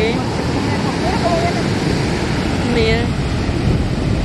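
Ocean waves break at a beach in a constant rushing wash of surf, with a breezy wind mixed in and a few brief voices talking over it.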